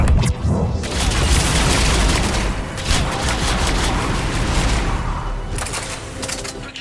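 Mass Effect 3 combat gunfire roars as a loud, sustained volley of shots and booming impacts, dense and continuous with a few sharper bursts standing out near the start and the end.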